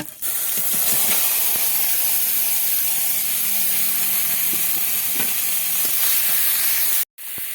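Mashed banana flower paste sizzles and hisses loudly in hot oil in a wok, a steady, close frying roar with faint stirring, cut off abruptly near the end.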